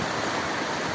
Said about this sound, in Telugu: ఈ నీళ్ళు చూడండి ఎలా పోతున్నాయి